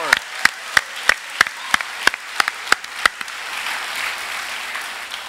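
A congregation claps as an offering to God during a church service: a run of loud, sharp, fairly regular claps at the start that dissolves into a softer, continuous wash of applause.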